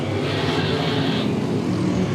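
Vintage race cars accelerate hard on the track after the green flag, a loud, continuous engine roar that stays close and constant.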